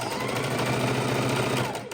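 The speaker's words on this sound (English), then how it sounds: "then we're going to put it through the sewing machine and we're going to sew it straight across" A sewing machine runs steadily while stitching jelly roll quilt fabric strips straight across, a continuous close mechanical whir with a fast rhythmic hum and no pauses.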